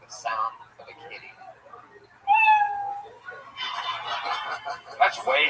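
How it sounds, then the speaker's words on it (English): A loud cat meow sounds as an on-stage cue that a comedian's 60-second set is over, with voices and laughter around it and crowd noise building afterward. "When you hear the sound of a kitty."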